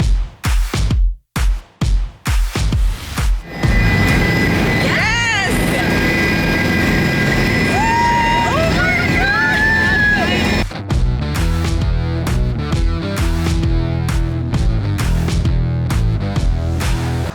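A helicopter's steady whirring drone fills the middle stretch, flanked by bursts of speech and noisy handling, with a voice rising over the engine.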